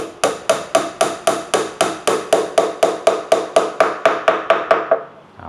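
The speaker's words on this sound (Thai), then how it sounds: "ตอกเข้าไปเลยนะครับ" About seventeen evenly spaced, sharp hammer blows drive a wooden dowel into an oak table joint. The blows are close and loud, keep a quick steady rhythm, and stop near the end.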